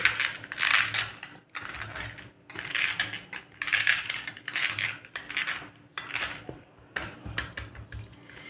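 Almonds are shaved in a hand-cranked dry fruit cutter, giving a steady close grinding and scraping crunch in repeated bursts of about a second each, with brief gaps between turns and no talking.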